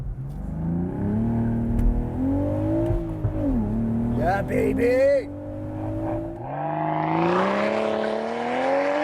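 A manual 2025 BMW Z4 with a turbo inline-six climbs through revs while being driven, the engine note rising and falling through gear changes with tire and road noise, heard from inside under a brief voice.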